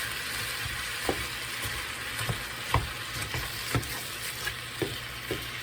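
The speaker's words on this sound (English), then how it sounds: "So we're just going to keep breaking up the ground beef." Ground beef frying in a pan while being broken up, with a constant loud sizzle and hiss punctuated by regular scraping taps of a spatula against the pan.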